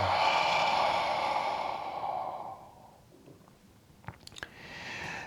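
A long, breathy exhale through an open mouth during a calm morning breathing exercise, close and steady before fading, followed by a few small mouth clicks and a soft inhale.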